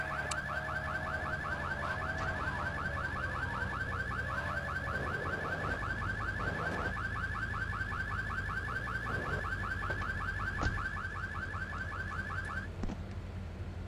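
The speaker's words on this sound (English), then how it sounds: "ignore that alarm" A car alarm in Grand Theft Auto 3 blares a rapid repeating warble, steady and loud for most of the clip before cutting off near the end, with no talk over it.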